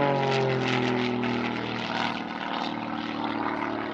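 A Zivko Edge 540 aerobatic airplane's propeller engine drones loudly and steadily during an aerobatic display, its buzzing tone shifting slightly in pitch as the aircraft maneuvers.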